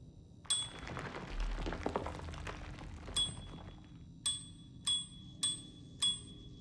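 A bell rings repeatedly in Alone in the Dark (Edward Carnby), bright metallic pings sounding once early, then again in a quick series of four or five evenly spaced strikes over a low background rumble.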